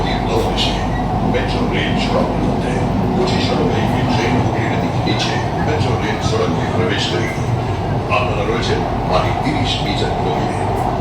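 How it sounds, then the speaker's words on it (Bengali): A metro train arriving at a station in a tunnel under the Ganges rumbles and roars steadily, loud and close, its wheels and carriages filling the space with continuous noise; faint voices underneath. "রেল এখন প্রবেশ করতে চলেছে"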